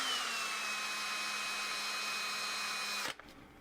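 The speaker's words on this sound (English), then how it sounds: "we don't want to drill in too far with it" A power drill bores into a plastic Star Wars action figure, a steady high-pitched motor whine running close and continuously before stopping abruptly, leaving near quiet.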